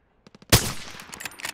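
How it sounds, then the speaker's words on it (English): Video game gunfire: a few quick soft shots, then a loud close burst followed by scattered rattling follow-up fire over a short moment. "Someone's still up there fighting, shooting."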